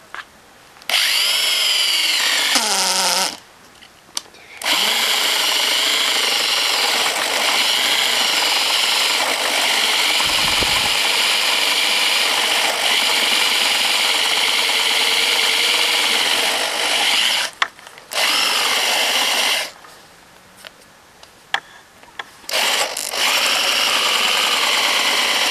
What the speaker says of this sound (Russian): Это просто берем сверло нужного диаметра. Вот, например, гусиная лапка 38 мм. И сверлим.